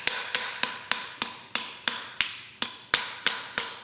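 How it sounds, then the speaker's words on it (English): A small ball peen hammer strikes a wooden dowel to knock a lead slug free from an 1867 rolling block rifle barrel: a steady run of about a dozen crisp, close, ringing taps, evenly paced, with no voices. "a little ball peen hammer."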